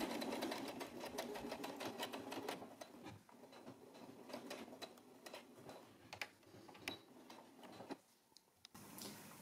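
A sewing machine stitches a double folded hem using a wide hem foot, a steady rapid mechanical ticking and whirring that runs continuously, fairly close and alone, with a brief pause near the end before resuming.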